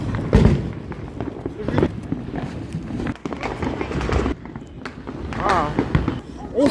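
Transformers-brand consumer fireworks going off with other fireworks, a series of sharp bangs and crackling bursts mixed with excited shouting from people nearby.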